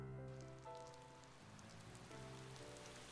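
Rain falling in the visual novel game Reine Des Fleurs, a soft, steady patter on a surface under a quiet sustained musical background, faint throughout.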